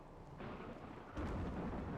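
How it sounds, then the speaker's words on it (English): Steady rain with a rumble of thunder in the colony-building video game RimWorld, a constant hiss that swells louder partway through, with no talking. "at least it's raining now"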